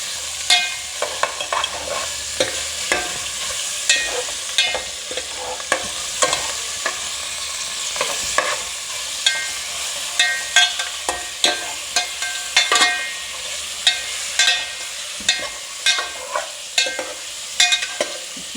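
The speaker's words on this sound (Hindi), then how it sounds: "मैं इसमें इसको अच्छे तरीके से इस तरीके से भून लूँगी" Half a kilo of beef for balti gosht fries in a hot pan, a loud continuous sizzle with frequent sharp clacks and scrapes of a spoon stirring it.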